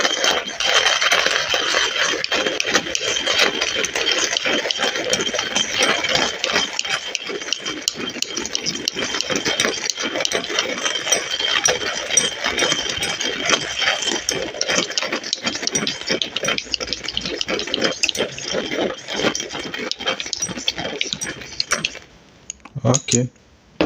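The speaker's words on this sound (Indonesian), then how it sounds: "Kita giling." A cheap electric grinder grinds coffee beans for a moka pot, giving a loud, continuous rattling whir with crackling bean impacts that runs steadily for over twenty seconds, then cuts off into a few brief clunks.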